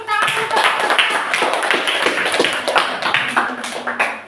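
A school class claps for a student group after an economics lesson presentation, producing loud, dense, continuous clapping with quick overlapping taps throughout.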